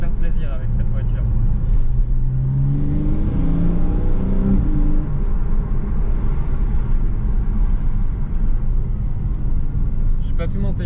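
A 330 hp car engine in sport mode revs and rumbles steadily from inside the cabin, with a rising pitch sweep partway through, under continuous loud road noise.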